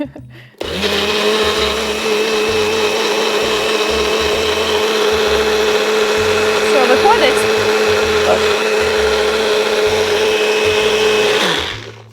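A powerful blender roars steadily at close range for about eleven seconds, blending coconut, with a brief spoken question heard faintly over the motor.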